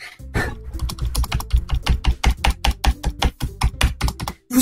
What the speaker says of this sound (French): Vous entendez bien la touche entrée.